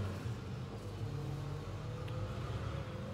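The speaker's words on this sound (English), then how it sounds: "sorry about the road noise." Road traffic noise from outside during a pipe tobacco tasting session, a steady low rumble of passing cars droning continuously in the background with no talk.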